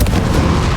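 A single deep, booming blast from a Confringo spell in a video game fills this short burst, loud and close with a rumbling low end.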